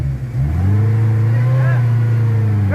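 A Suzuki Jimny 4x4 engine drones loud and close as it revs steadily on an offroad river route, the pitch rising and falling as the throttle changes, with voices calling out in the background.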